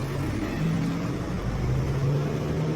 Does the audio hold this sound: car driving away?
yes